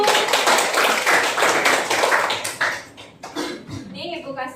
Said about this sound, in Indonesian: kita kasih aplaus dulu buat aku